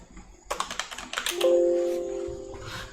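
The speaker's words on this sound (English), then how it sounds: "Boy, who's typing here?" Quick bursts of computer keyboard typing rattle close by, a rapid string of key taps followed by a short electronic tone.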